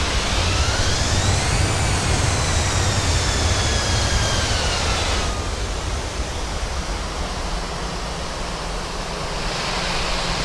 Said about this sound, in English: And we'll taxi to the end of the runway now.